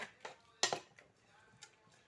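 A lid comes off a pot of ash gourd curry and a spoon stirs it, giving a sharp clank followed by a few lighter scraping taps and clinks, close and fairly quiet, with no voices.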